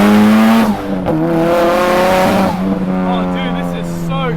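A Nissan S15 Silvia with a 2.35-litre stroker big-turbo engine pulls hard from inside the cabin, its loud revs rising and falling through gear changes while people talk over it.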